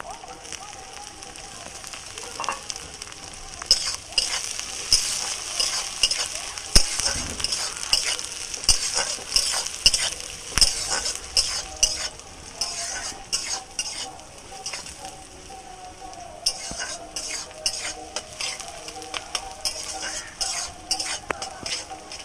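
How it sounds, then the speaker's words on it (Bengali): Beans, carrot, beetroot and capsicum fry together in a pan for a vegetable pulao, with a steady sizzle and repeated scraping stirs and light utensil clinks throughout. "দিয়ে একসাথে ভেজে নেব"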